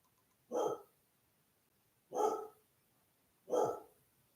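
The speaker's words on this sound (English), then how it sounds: "She's barking at my wife" A dog named Pfeiffer barks three times, single loud barks spaced a second or more apart, heard from a short distance in an otherwise quiet room.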